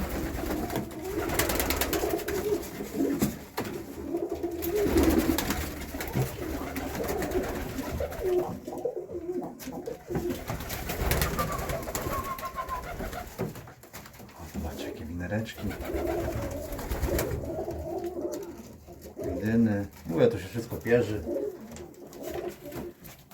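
Ornamental pigeons coo repeatedly in a low, throaty murmur at a breeder's loft while people talk nearby, with a busy, cluttered background throughout.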